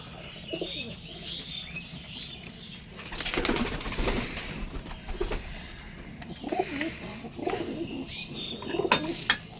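A pair of Teddy pigeons coo repeatedly at close range, with soft chirps and occasional rustling or wing flutters mixed in, and no one speaks.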